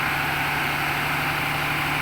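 A ten-wheeler truck engine powering a rubber crepe roller that presses natural rubber lumps into sheets, a steady low drone with a constant hum and even rumble, close and unbroken with no speech.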